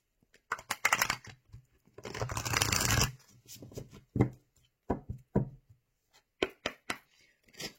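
Tarot cards being shuffled by hand, a couple of brisk riffling bursts followed by scattered soft taps and slaps of the deck, close and clear with no talking.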